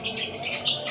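Lovebird chirping in short bright tweets, fairly close and steady, with no talking over it.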